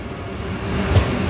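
A Vande Bharat express train rushes past at speed, a brief loud roar of rolling wheels and rushing air swelling up close, with no voices.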